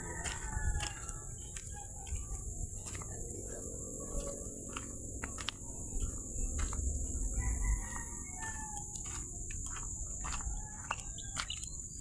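A pet rooster crows several times at a farmyard distance, the calls rising over a constant high shrill of insects and crickets, with faint low rumbles and no talking.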